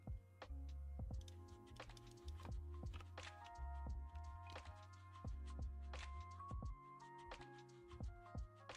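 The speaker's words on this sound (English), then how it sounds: "let me type in T-3485." Typing on a computer keyboard, irregular clicks and taps over steady low game music, with clustered keystrokes and short gaps throughout, moderately loud and with no talking.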